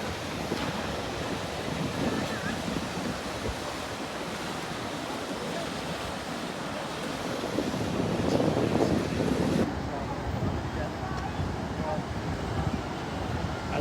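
Waves break and wash at an inland surf pool as a steady roar of surf, with wind buffeting the microphone and a surge of louder water midway.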